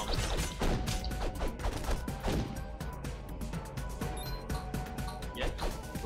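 A bomb is thrown and explodes in the video game Castle Crashers, amid a dense stream of rapid smashing and thumping impacts over constant game music and effects.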